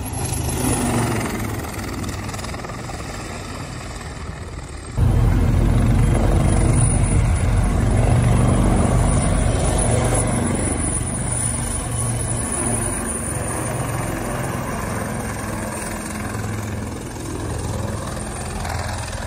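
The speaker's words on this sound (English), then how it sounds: "This helicopter doing close flybys next to an aircraft carrier." A helicopter makes close flybys beside an aircraft carrier, its engine and rotor noise a steady roar that surges sharply louder partway through, then slowly eases while staying near, with a high whine persisting on top.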